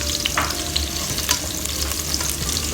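Onions sautéing in a pan, a loud close sizzle with stirring scrapes and clatters throughout, no voices.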